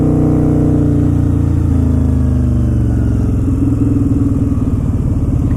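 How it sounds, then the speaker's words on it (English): A Harley-Davidson V-Rod motorcycle engine revving up high nearby, a loud, sustained roar whose pitch rises and wavers over several seconds, with no talking over it. "Let me show you what the V Rod's all about. It revved up real high."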